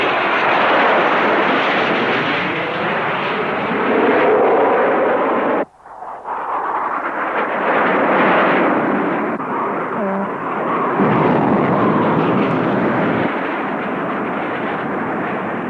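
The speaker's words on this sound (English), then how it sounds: "Firing now, and pulling out." An F-4 Phantom II jet fires on a target and then pulls out, a loud roaring rush of engine and gunfire noise that cuts off abruptly, then returns as a sustained jet roar.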